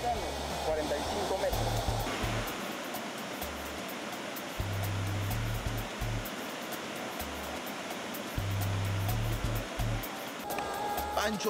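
Roaring waterfall crashing beside a climber rappelling down it, a loud steady wash of rushing water throughout, with a voice narrating over it in stretches.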